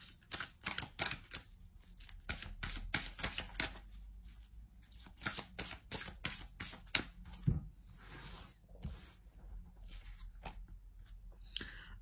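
Oracle cards shuffled for a card reading: a dense run of quick, crisp riffling and flicking bursts, close and fairly loud, with brief pauses and no talking.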